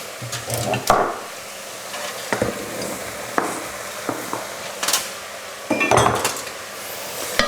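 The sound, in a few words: carrots being added and stirred in a pot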